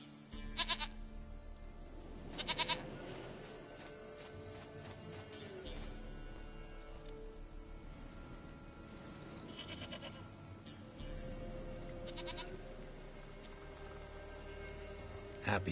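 A goat bleats repeatedly in The Witcher 3, its wavering cries sitting over a steady ambient game background, with several distinct calls spread out over time.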